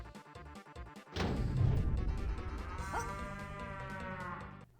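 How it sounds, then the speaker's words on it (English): Cow moo launched from the cow launcher in the video game The Adventures of Square, a loud drawn-out bellow starting abruptly after a crash, with game music underneath. "Oh wait, I forgot about the cow launcher,"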